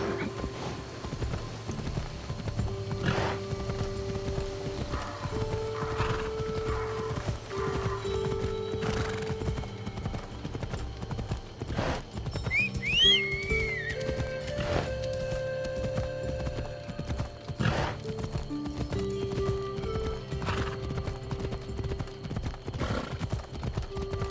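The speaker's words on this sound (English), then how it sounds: "Horse." Steady hoofbeats clip-clop along under ambient music in Assassin's Creed Odyssey, and a horse neighs midway through, clear and fairly close.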